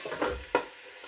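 Sausages frying in oil in a covered pan, a brief faint sizzle with two soft clattering bursts, quiet and close.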